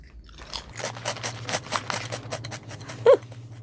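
Someone chews a star-shaped yogurt crisp snack, a close run of dry, irregular crunches continuing for several seconds with a short mouth sound near the end.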